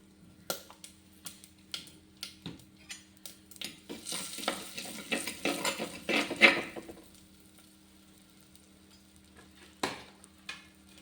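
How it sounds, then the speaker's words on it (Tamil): Asafoetida hits hot oil in a pan and sizzles as it is stirred, with scattered ticks and scrapes from the spoon. The hiss swells in the middle and then fades, quiet and close. "இப்போ நம்ம பெருங்காயம் போட்டுக்கணும்"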